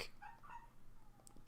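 Cat meowing indoors, a faint short meow early on and another brief cry at the very end, quiet and close.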